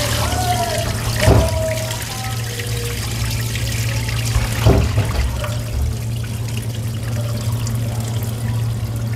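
Water pours and splashes steadily as corn kernels are rinsed in a basin for a small food business, a continuous close trickling with a couple of louder pours, while people chat over it.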